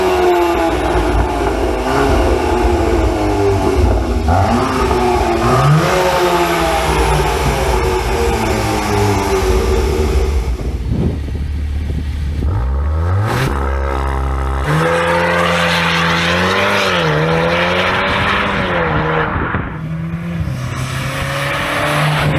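A VW MK8 Golf R with a CTS valved catback exhaust revs hard and loud up close, the engine note climbing and falling in repeated sweeps with a brief drop and sharp re-rev partway through.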